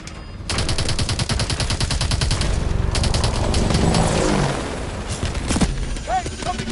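Sustained automatic gunfire in a video game battle against tanks and infantry, rapid loud bursts running for several seconds and then easing off, with a few scattered shots near the end.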